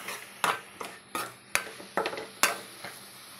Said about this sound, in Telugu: టమాటాను కూడా ఒకసారి కలుపుకొని